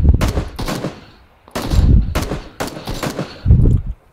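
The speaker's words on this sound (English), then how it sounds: "I'm gonna start shooting too, go." Bursts of video game gunfire in a shooting match, with several loud volleys of rapid automatic shots separated by short pauses and heavy low thumps, no talking over them.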